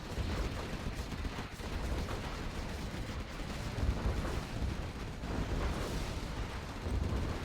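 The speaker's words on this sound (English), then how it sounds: "Another carpet bomb." Continuous heavy rumbling explosions from a carpet bombing run in Command & Conquer Generals Zero Hour, a dense low roar of blasts holding steady throughout with no pauses.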